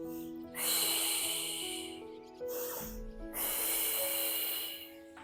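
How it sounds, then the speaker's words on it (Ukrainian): Deep breaths during a deep abdominal muscle workout lying on the floor: three long, loud hissing exhales in a row, each after a short inhale, close to the microphone, with no talk. "Вдих короткий, довгий видих."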